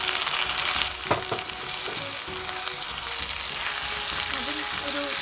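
Carrots and green peas fry in a pan for Chinese fried rice, giving a steady close sizzle with a few sharp scraping knocks near the start.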